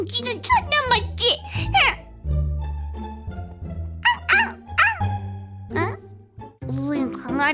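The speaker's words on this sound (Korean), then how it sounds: "웬 강아지? 너무 귀엽다." A puppy barks and yips in short bursts, mixed with a voice talking in a home setting.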